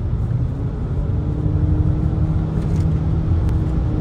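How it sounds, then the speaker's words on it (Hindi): Steady low rumble inside a moving Haval H6 Hybrid, with a continuous droning tone that fits an aircraft passing overhead, constant and fairly loud throughout. "जहाज की आवाज आ रही है."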